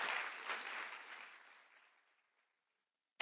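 Audience applause at a round-table conference for a former Prime Minister of Benin, a spread of clapping that fades out over about a second and a half, followed by silence and a sudden loud burst at the very end.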